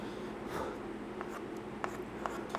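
Chalk or marker strokes scratch across a classroom board in short, faint bursts over a steady room hiss.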